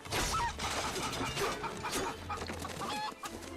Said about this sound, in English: Remember this chicken.